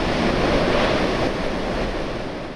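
Heavy wind-driven rain from a passing cyclone in coastal Patuakhali roars as a dense, constant wash of noise, loud and even from start to finish, with no speech.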